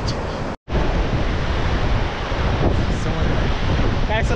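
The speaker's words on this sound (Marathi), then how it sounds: "समुद्राच्या लाटांमुळे आवाज बी येणं अवघड आहे" Sea waves wash loudly onto Diveagar Beach, a dense continuous roar of surf mixed with wind buffeting the microphone, broken by one brief dropout near the start.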